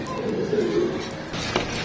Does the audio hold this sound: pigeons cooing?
yes